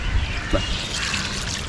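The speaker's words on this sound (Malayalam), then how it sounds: "വെള്ളം കുറച്ച് ഒഴിക്കും" Water trickles and splashes into a pot of beef and jackfruit for a moment, a soft liquid pour over a low background hiss.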